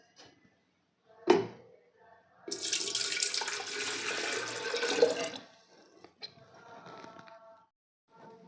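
A tap runs into an electric kettle of about 1.2 litres. A sharp knock comes first, then a loud steady stream of water fills it for a few seconds, then softer trickles and small clunks follow.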